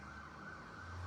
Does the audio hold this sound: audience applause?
no